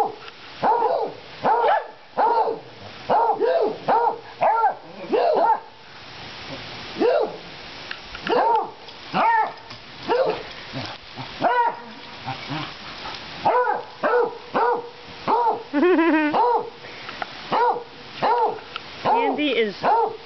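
Several dogs bark, yip and whimper in lively, repeated bursts while playing together, close and loud, with a person speaking intermittently among the barks.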